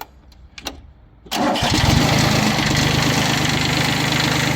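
Yanmar F15D Japanese diesel mini tractor with 729 engine hours: a few quiet clicks, then the starter cranks briefly before the engine catches and settles into a loud, steady, even idle close by.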